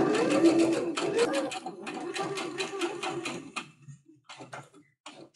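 A domestic sewing machine stitches cotton fabric across a thick seam, its motor whirring in short bursts with rapid needle clatter, then stopping and starting again in briefer runs toward the end.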